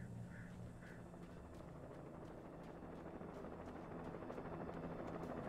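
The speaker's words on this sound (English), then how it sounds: "Of course, they're looking for me from a helicopter now." A helicopter's rotor thumps steadily beneath a dense rumble in the video game Alan Wake, with a couple of faint chirps near the start. The whole scene is fairly quiet.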